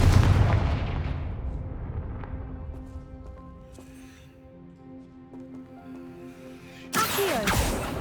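The Confringo fire spell in Hogwarts Legacy bursts with a loud explosive blast that decays into a long ringing tail, followed by another sharp magical burst near the end.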